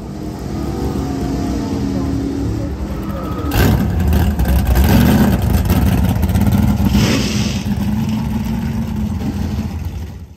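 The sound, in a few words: vintage drag racing car engine, Holley MoParty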